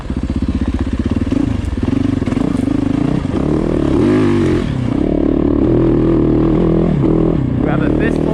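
A Yamaha YZ450FX dirt bike engine revs hard on the throttle while riding a rough trail near Lake Arrowhead, a loud close buzzing roar that rises and falls, with clattering and scraping over the top and a rider talking throughout.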